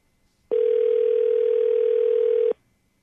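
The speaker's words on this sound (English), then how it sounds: "Toughest part of these for me is always dialing the number." A telephone dial tone: one steady, loud electronic hum that starts abruptly, holds for about two seconds and cuts off sharply, with silence before and after.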